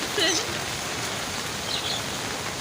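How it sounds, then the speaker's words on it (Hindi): Rain falls steadily in Karachi, a broad even hiss of drops with faint bird chirps over it and no speech. "देखिए अब थोड़ी हल्की हो गई बारिश, लेकिन मज़ा आ रहा है बारिश में।"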